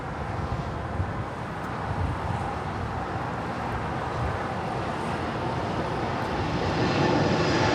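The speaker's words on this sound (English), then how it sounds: "We have DHL now rolling on 25 left. It's a 777 freighter headed out to Cincinnati" DHL Boeing 777 freighter rolling for takeoff on runway 25 left at LAX, bound for Cincinnati: a loud, continuous low jet-engine roar that builds slightly toward the end, with some wind buffeting on the microphone.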